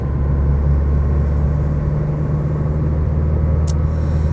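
A Porsche 944 sports car drives along a straight road, its engine giving a steady, loud low rumble that holds even throughout, with no voices.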